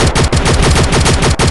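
Rapid automatic gunfire from the shooter game Infinity Ops, a loud, dense burst of fast repeating shots that runs continuously with only a couple of brief gaps and no talk over it.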